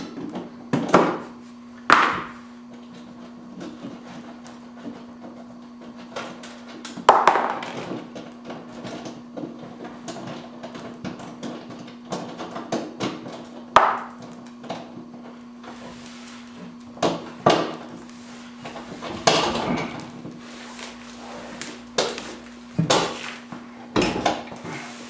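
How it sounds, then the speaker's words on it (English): Clanking metal knocks and scrapes as bolts are removed and a car exhaust muffler is worked loose during a Monza exhaust installation, sharp intermittent clunks spaced irregularly over a faint steady hum. "go ahead and take loose these bolts all the way out and start pulling this muffler off."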